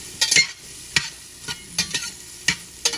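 Onion and ginger sautéing in a pan, a steady soft sizzle broken by several sharp scraping stirs of a utensil against the pan at irregular intervals.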